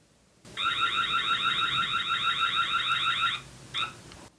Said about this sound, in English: also there's a siren inside